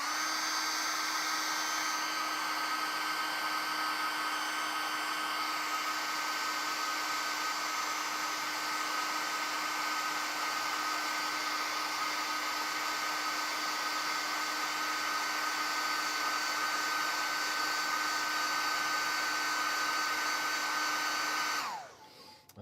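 Hair dryer blowing to dry paint on a tiny miniature, a steady, close, high-pitched whir that runs unbroken for about twenty seconds before being switched off.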